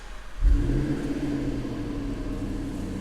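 Supercharged 5.0-litre engine of a 2011 Jaguar XKR firing up with a loud burst, then settling into a steady, close rumbling idle that continues alone.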